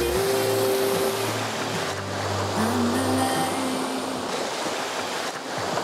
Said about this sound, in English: We've got some strong swells coming in.